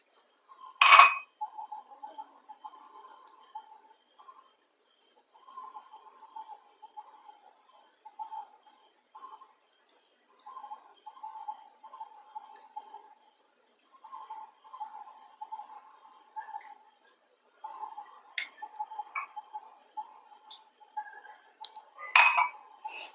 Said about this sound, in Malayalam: ഒരു നാല് സ്പൂൺ കോൺഫ്ലവർ എടുത്തിട്ടുണ്ട് ഇതിനകത്തോട്ട് നമുക്ക് ഒരു അരക്കപ്പ് പാൽ ഒഴിച്ചിട്ട് നല്ലപോലെ ഒന്ന് മിക്സ് ചെയ്ത് വെക്കാം